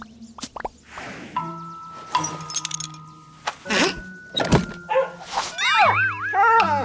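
A cartoon dog yaps in several short, bright barks scattered among splashy plops, jangles and comic sound effects, close and loud, with sliding whistle-like tones toward the end.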